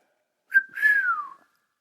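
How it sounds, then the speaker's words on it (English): One short whistled note, then a longer one that slides smoothly downward in pitch, clear and close, with silence before and after. "I whistled out loud"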